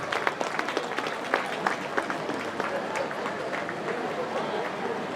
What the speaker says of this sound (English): Let's also give a round of applause for all the former